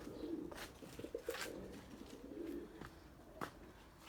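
Low, soft pigeon coos roll on and off at close range, with a few faint rustles and clicks in between.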